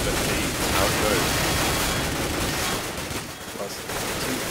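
Rapid bursts of AK rifle fire crackle through a Counter-Strike match on de_nuke, a dense wash of shots and game noise under a caster's commentary.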